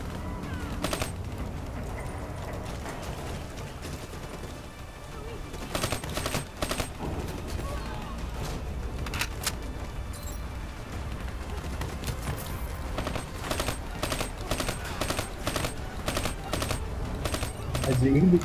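Rapid bursts of heavy mounted-gun fire in Black Ops 3 co-op campaign combat, loud repeated volleys with brief pauses between, continuing throughout amid general battle noise.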